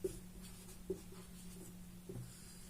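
Faint chalk or marker strokes tapping and scratching on a board during a lesson, a few soft distinct touches over a low steady hum, quiet and close.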